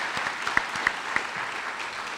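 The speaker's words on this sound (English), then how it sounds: "Let's give all of our Parent Award nominees a round of applause." Audience applause at a school district Parent of the Year awards ceremony honoring the nominees, a brief burst of steady clapping with a few sharper claps standing out.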